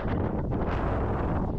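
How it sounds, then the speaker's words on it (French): Strong Mistral wind on the Port-Cros coast at Pointe Cognet, roaring and buffeting loudly against the microphone in a continuous, gusty rumble with no voices. "Le vent, vous l'entendez, il est fort."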